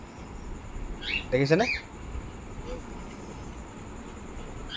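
A few sharp chirping calls from small pet birds at a home bird farm, a brief cluster in the middle over a low background hum, then quieter faint chirps.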